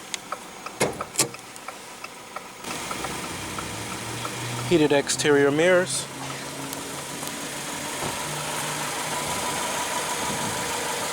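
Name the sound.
2015 Jeep Renegade 2.4 L 4-cylinder engine idling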